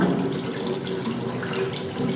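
Tap water runs steadily into a sink during a handwashing routine at a school, a close, continuous gushing stream with no voices over it.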